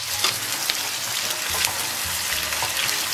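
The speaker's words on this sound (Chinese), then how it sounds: "咱们把这个切好的葱蒜给它下里边，继续给它煸炒一下" Pork ribs stir-fried with chopped scallion, garlic and bean paste in a hot wok, a dense continuous sizzle with steady crackling and occasional scraping stirs, loud and close.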